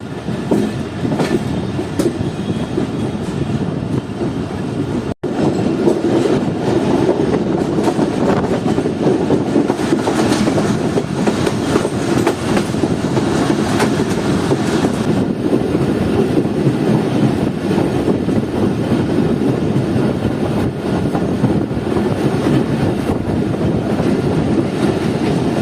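The Karakoram Express rolls dead slow over its rails, a steady, loud rumble and clatter of wagons that runs without a break and comes through close and even.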